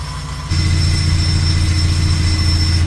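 A Honda Civic Type R FK8 engine and exhaust on stock setup, running as a steady loud low drone with a sustained tonal hum that jumps up in level after a brief quieter opening and holds constant, no talking.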